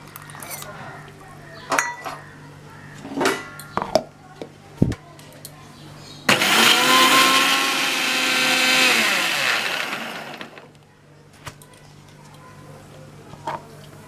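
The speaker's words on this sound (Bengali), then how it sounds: "সর্ষে পোস্তটা আমার ব্লেন্ড করা হয়ে গেছে।" A blender whirs loudly for about four seconds, grinding mustard and poppy seeds with green chillies, salt and a little water, with clinks of utensils and dishes before and after.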